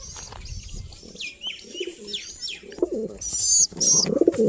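Pigeons cooing softly nearby with scattered chirps, followed by a loud burst of wing flapping as birds take off, all close and without talk.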